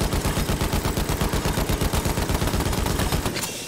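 Rapid machine gun fire aimed at a fighter plane in Battlefield 1, a dense, relentless burst of evenly spaced shots lasting over three seconds, loud and close before cutting off.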